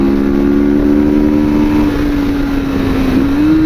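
A Kawasaki Vulcan S 650 cruiser motorcycle engine drones loudly and steadily up close, its pitch holding then climbing slightly as it pulls through a gear, with no talking.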